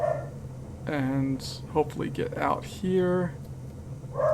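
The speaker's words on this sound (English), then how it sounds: "You can hear my dog in the background maybe." A dog barks a few times in the background, with a couple of distinct yelping barks under a voice talking close by.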